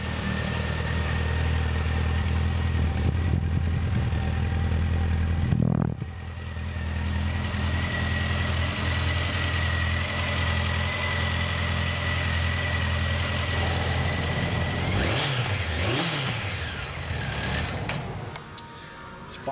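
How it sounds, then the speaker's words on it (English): A Honda CB1100 motorcycle engine idles smoothly and steadily up close, then briefly blips its throttle near the end. "The engine on this thing is butter smooth."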